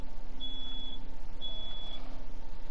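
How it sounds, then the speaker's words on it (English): A household smoke alarm gives two long, high beeps in the background, each lasting about half a second, over a steady low hum of other sound. "it was just smoke alarm"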